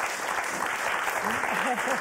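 Studio audience of a French TV word game show breaking into sustained clapping, thick and continuous, with a voice speaking over the applause in the second half.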